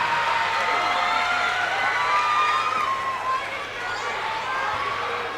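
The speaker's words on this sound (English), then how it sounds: "Aiden Burris will go out of this game to round of applause from the stands" Crowd in the stands of a high school boys basketball game between Quincy and North Quincy, a broad sustained wash of clapping and cheering with raised voices throughout, dipping slightly near the end.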